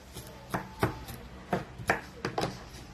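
A knife chops garlic cloves into small pieces on a cutting board, about nine sharp, separate knocks spaced irregularly, close and clear against a quiet background.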